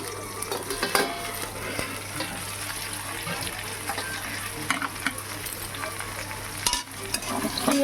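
Vegetables such as taro, potato and aubergine being stirred in a hot pan, a steady sizzle with scraping spoon strokes at close range and no voices.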